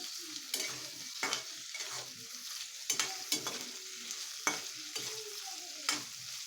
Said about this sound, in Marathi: हलकेसे एक तीस सेकंद परतायचे आहेत जास्त शिजवून नाहीत घ्यायचे